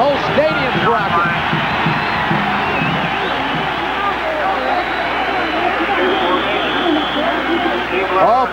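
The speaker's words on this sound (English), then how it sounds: "listen to this crowd, the whole stadium's rocking" Stadium crowd at a 1985 Colorado at Nebraska college football game roaring steadily, a loud continuous wall of cheering and whoops under a broadcast announcer's voice.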